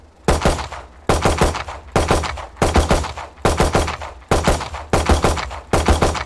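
Short bursts of gunfire aimed at a target in the shooter game Valorant, eight evenly spaced bursts of three or four quick rounds each, loud and close, with brief gaps between them.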